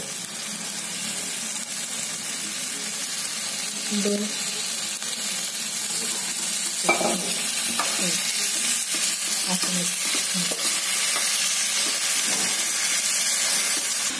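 Oil sizzles and hisses steadily in a pan while salt-stuffed whole chillies and garlic cloves are fried, with brief stirring clatters and a soft voice now and then under the constant frying.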